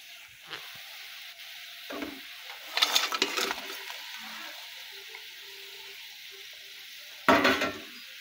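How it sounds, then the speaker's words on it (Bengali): Prawns go into a boiling, spicy banana-blossom prawn curry and get stirred, giving two loud bursts of splashing sizzle over a quiet, low bubbling simmer. "এবার আমরা চিংড়ি মাছগুলোকে দিয়ে দেব।"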